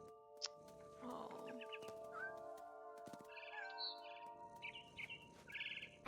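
A mama bird chirps and tweets in the video game What Remains of Edith Finch, a few quick, fairly quiet calls over a soft, sustained tonal game soundscape, with no voices.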